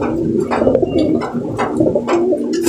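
A racing pigeon coos repeatedly in soft, throaty rolling phrases, close by, with a faint steady hum underneath.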